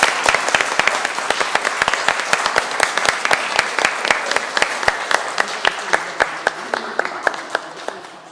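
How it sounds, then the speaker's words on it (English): A church congregation applauds its new members, warm continuous clapping from many people with crisp individual claps close by, steady throughout before easing off. "Let's all give our new members another round of applause"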